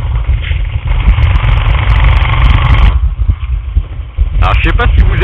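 A Suzuki Intruder VL 800 motorcycle engine idles with a steady low rumble close by, broken by wind noise, with a voice speaking over it near the end.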